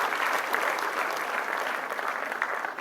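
Loud, dense applause from a crowd at a public gathering in Gwalior, sustained and fairly even for a few seconds with no voices standing out.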